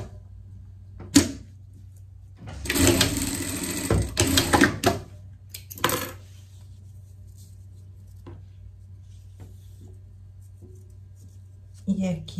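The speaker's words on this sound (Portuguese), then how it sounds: "vamos passar a costura aqui." A sewing machine stitches the waistband of a summer pet outfit in bursts, with a main run of about two seconds and a shorter one after, between quiet handling sounds.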